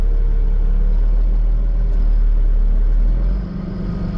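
Tractor engine turning a plough, a steady loud close diesel drone held at raised throttle that drops abruptly near the end as the revs fall back.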